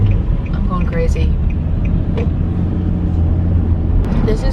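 Car driving on the road on a cloudy morning, heard from inside the cabin as a steady low rumble and road noise throughout, with people talking over it.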